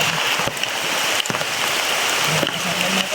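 Heavy rain pours in a steady broadband hiss, loud and continuous, with a few sharper knocks and splashes breaking through at intervals.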